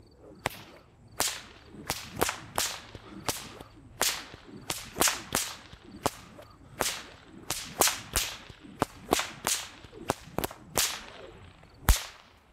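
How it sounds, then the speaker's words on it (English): A rapid series of sharp whip cracks, roughly twenty in steady rhythm, loud and close with brief whooshes between strikes. "Try and add this crack into the slow helicopter."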